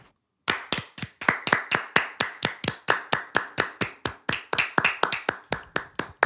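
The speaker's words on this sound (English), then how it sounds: "Let's give a round of applause for electricity." A round of hand claps breaks out after a brief silence, sharp and regular at a steady rhythm, close and fairly loud, with no talk over it.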